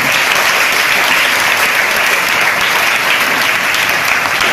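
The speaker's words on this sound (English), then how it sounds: "Give me a big round of applause" An audience at a school in Guntur gives a big round of applause, a loud, dense and steady roar of clapping that holds for the whole stretch without pause.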